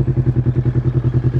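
A Kawasaki ER6 650cc two-cylinder motorcycle converted to a bobber idles close by with a deep, steady, loud thumping pulse at an even rapid rhythm, with no voices.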